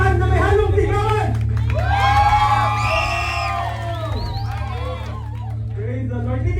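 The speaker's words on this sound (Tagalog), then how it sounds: "palakpakan na may halong sigawan!" A crowd whoops, cheers and shouts loudly at a church Deal or No Deal birthday game show, with rising excited voices over a steady low hum and a brief lull before the noise picks up again.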